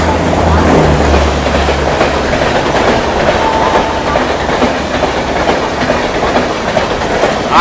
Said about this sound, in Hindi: और सामने से भी कोई ट्रेन आ रही है